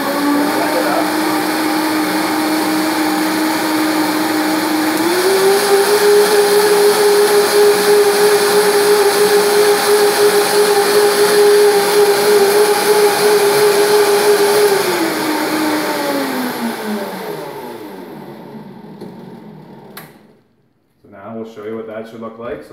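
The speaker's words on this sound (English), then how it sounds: "So this is a Vitamix blender here." A Vitamix blender whirring greens with water, a loud steady motor whine that rises in pitch partway through, holds, then winds down to a stop, followed by a few faint clattering sounds.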